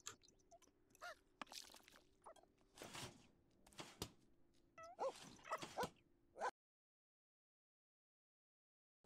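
Puppy in a Sims life-simulation game yipping and barking, with a few soft whimpers, in short bursts over a faint steady hum before falling silent.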